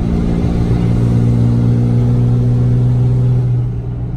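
A steady, deep 2005 Cummins diesel truck engine idles with a low droning rumble and faint higher hum, loud and continuous, easing slightly at the end; stock intake with silencer ring.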